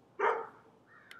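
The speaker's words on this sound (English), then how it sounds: "you might hear a dog barking in the background" A dog gives a single sharp bark from some distance away, followed by a faint short whine, in an otherwise quiet room.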